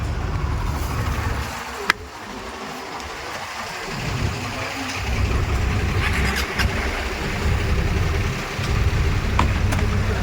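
A vehicle engine fitted with a loud modified silencer, heard as a steady, close, low rumble that holds for about ten seconds with slight surges and no speech.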